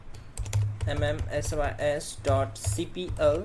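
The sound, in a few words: typing on a computer keyboard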